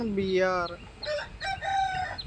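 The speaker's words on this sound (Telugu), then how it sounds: "ఆ పల్లెటూరు అంటే నిజంగా ఈ కోడి అరుపులు పిచ్చి కూతలు ఒక రకంగా ఉంటుందండి నిజంగా" A rooster crows near the village railway station at Nambur: one clear, fairly close cock-a-doodle-doo followed by shorter broken calls, standing out over quiet background noise.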